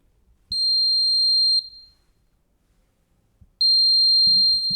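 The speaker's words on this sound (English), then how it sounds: "I hope you guys can hear the buzzer" A MicroPython ultrasonic intruder detector's buzzer sounds twice, each a steady high-pitched electronic tone of about a second, separated by a quiet gap, with faint handling noise between.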